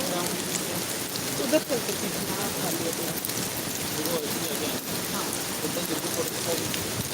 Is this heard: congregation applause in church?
no